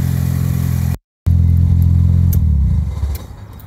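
A Nissan Silvia S14's engine roars loudly up close, a sustained rev broken by a brief cut, then resuming and dropping toward a lower, rougher idle near the end.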